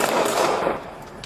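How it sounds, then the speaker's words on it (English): Gunshots fired at a police officer under the Phelan Bridge: a dense, loud, rapid burst of gunfire filling the whole moment, fading slightly toward the end, with no voices. "But instead of stopping, Brandon started shooting."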